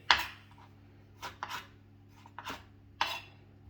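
A knife slicing tomatoes on a board, several short, crisp close cuts with quiet pauses between them, a few strokes sharper and louder than the rest.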